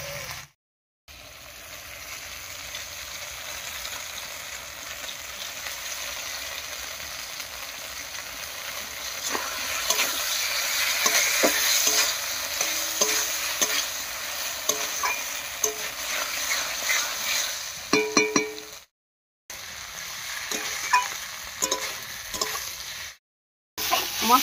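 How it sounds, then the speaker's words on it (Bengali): Gobindobhog rice stir-fried with spices and potatoes in a pan, a steady soft sizzle with intermittent scraping stirs, close and moderate, broken by brief silences. "মশলার সঙ্গে গোবিন্দভোগ চালটা বেশ একটু ভাজা ভাজা করে নিয়েছি।"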